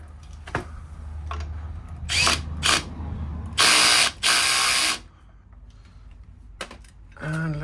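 A power tool whirring in short bursts and ratcheting clicks as inverter battery connections are tightened, with several loud buzzing spurts mid-way between quieter clicks and clatter.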